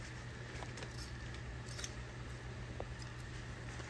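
Scissors trimming marine upholstery fabric for a boat gunnel, giving faint, quick snips and small clicks over a steady low background hum.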